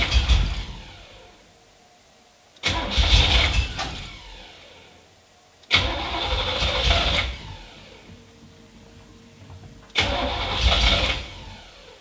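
A C3 Corvette engine cranks and fires in three separate loud, close bursts, each dying back to a quieter lull before the next attempt.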